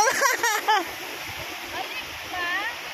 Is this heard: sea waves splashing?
yes